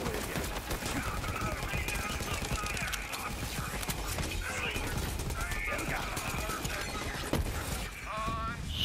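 Rapid turret fire in Borderlands 3, a dense continuous rattle of shots running the whole time, with game effects mixed in and someone talking over it.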